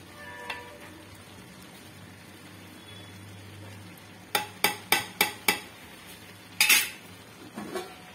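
A spoon stirs ghee through cooked meal maker pulav rice in a pot, with a quick series of sharp metallic scrapes and taps against the vessel, close by, after a quiet stretch.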